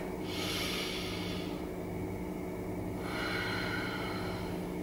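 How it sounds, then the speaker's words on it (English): Slow, deep breaths drawn in and let out during a beginner yoga session, two long airy cycles close to the listener, with no talking. "deep breath in and out"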